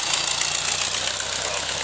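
An 8.2-litre Curtiss aircraft engine in a vintage car on a 1907 chassis runs with a rapid, rough mechanical chatter, loud and steady throughout.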